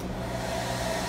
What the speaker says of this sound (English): Here's a hair dryer right here that we've got